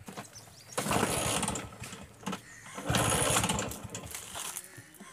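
A vintage LML Vespa scooter is tried for a cold start: two long bursts of cranking or kicking churn close by with a brief pause between, and the engine never fires.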